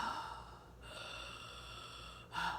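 A voice imitates laboured, wheezing breathing brought on by Maeng Da green strain kratom: a few raspy, breathy inhales and exhales, quiet and close.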